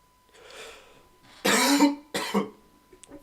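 A man coughs during live football commentary, with a soft breath followed by two loud, harsh coughs close to the microphone and faint throat noises after.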